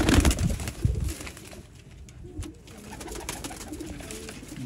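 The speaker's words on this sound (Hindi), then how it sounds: "लाजवाब किस्म के सियालकोटी कबूतरों का, गोल्डन कबूतरों का" Sialkoti pigeons coo softly in a loft, low murmuring calls over a steady background hum with some rustling and a brief flutter near the start.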